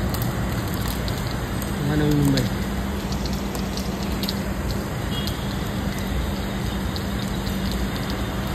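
Heavy monsoon rain pours over Belapur in Navi Mumbai, a dense continuous roar of water and rushing runoff, with someone speaking briefly above it.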